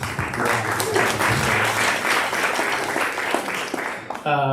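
Audience clapping at a small live jazz club show after a solo, a dense steady patter with voices murmuring underneath, ending as a brief sustained horn note enters.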